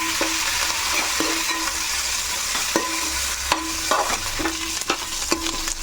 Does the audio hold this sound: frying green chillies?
yes